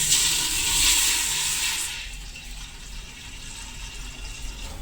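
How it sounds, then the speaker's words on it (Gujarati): About one litre of water pours steadily into a pot for about two seconds with a bright splashing rush, then gives way to a quieter lingering hum. "તેમાં આપણે એક લીટર જેટલું પાણી નાખીશું"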